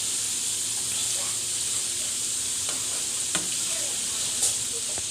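Cabbage, carrots, onions and garlic frying in a pan for Jamaican fried cabbage, a steady close hiss and sizzle with a few faint clicks of stirring on top.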